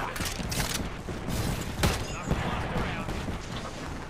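Gunfire in the Apex Legends video game: several sharp shots stand out over a dense, steady bed of game noise, with a talking voice in the mix.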